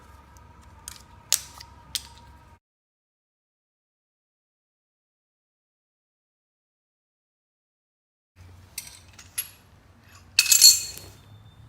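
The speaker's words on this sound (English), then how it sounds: "now you can remove the lug nut cover" A lug nut cover comes off a Tesla Model 3 wheel with small plastic clicks and light metallic clinks in two short bursts separated by several seconds of silence, the second burst busier and louder.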